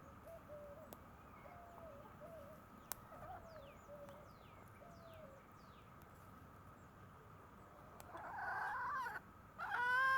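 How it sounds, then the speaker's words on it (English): A chicken makes soft, low clucks and coos at a backyard fire pit, with other birds chirping faintly in the background and a louder squawk near the end, all fairly quiet and distant. "What's up there, Miss Chicken?"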